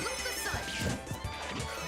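A heavy smash hit lands in a Super Smash Bros match, breaking ROB's gyro in a competitive tournament set, with a sharp crash over busy game effects and crowd noise.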